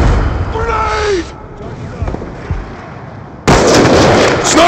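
A grenade goes off in Black Ops II, giving a loud broadband blast near the end after a stretch of muffled combat noise and a shouted voice early on.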